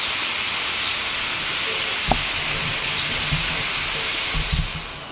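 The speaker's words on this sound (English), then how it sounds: "Still sizzling away here." Bacon sizzles in a pan while being cooked down for bacon jam, a steady, close hiss with a few faint pops and clicks and no talking.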